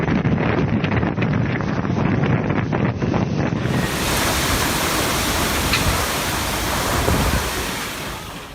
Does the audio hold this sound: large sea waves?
yes